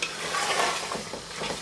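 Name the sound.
keema frying with yogurt on high flame, stirring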